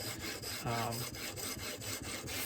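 A knife is drawn across a high-grit whetstone, around 4,000 to 6,000 grit, in quick, even rubbing strokes heard up close and alone.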